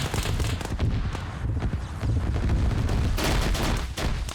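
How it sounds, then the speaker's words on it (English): A sustained barrage of rapid gunfire in a sci-fi shooter video game, dense overlapping shots crackling continuously and loudly for several seconds with no pauses. "Use that barrage of fire."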